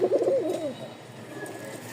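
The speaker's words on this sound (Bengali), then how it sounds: "রাজশাহীর উড়াবাজি কবুতর" A pair of Rajshahi Giribaz flying pigeons gives a close, throaty coo that fades into quieter murmuring calls, with no speech.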